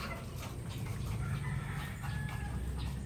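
Backyard chickens with a mother hen and a surviving chick, a steady wash of clucking and fowl calls at moderate distance, continuous over low rumbling background noise.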